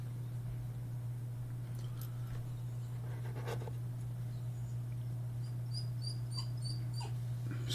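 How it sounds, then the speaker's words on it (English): A dog squeaking and whimpering, a string of faint, short, high squeaks near the end over a steady electrical hum in a room. "Squeaky dog."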